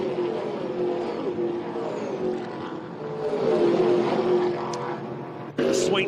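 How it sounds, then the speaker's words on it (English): TA2 muscle cars race down the Hi-Tec Oils main straight at Winton Motor Raceway, a steady loud engine drone that swells mid-way and surges again near the end as another car passes close. "The sweet sounds of TA2 muscle cars on the Hi-Tec Oils main straight."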